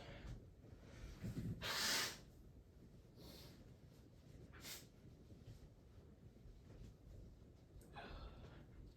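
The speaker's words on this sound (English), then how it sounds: "I gotta blow my nose" A person blows their nose in a short, loud honking burst, followed by a few fainter sniffs and breaths against quiet room noise.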